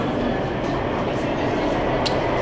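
Inside a moving metro train in the city, the carriage rumbles loudly and steadily with rail noise and a brief high squeal, continuous throughout and without talk.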